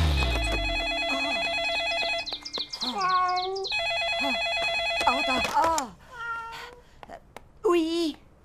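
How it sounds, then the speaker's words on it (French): A telephone rings over and over with a repeated electronic trill, and a cartoon voice yowls and wails alongside it in a busy animated scene. "Oh, et ce maudit téléphone qui n'arrête jamais."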